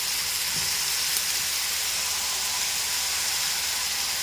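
Eggplant pieces dropped into hot oil hiss and sizzle in a steady, dense wash of frying noise that holds evenly throughout, close up and with no voices.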